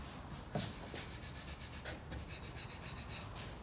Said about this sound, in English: And I'm gonna rub in the direction of the grain.